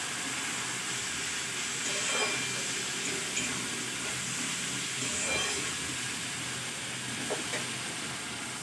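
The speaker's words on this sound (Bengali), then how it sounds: "সামান্য জল দিয়ে দেবো, জল দিয়ে মশলাটা ভালো করে কষে নেব।" Masala spices frying and sizzling in a pan with a little water added for a spicy Bengali fish curry, a steady, close hiss with faint stirring scrapes throughout.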